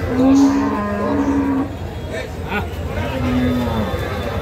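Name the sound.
cattle mooing at a cattle market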